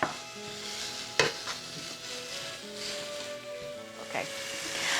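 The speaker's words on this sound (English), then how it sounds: "I'm just going to kind of continue breaking up the meat and cooking" Ground beef sizzles and crackles steadily in a pan as it is broken up and cooked with spices, with a few sharp spatula scrapes and taps over the continuous frying hiss.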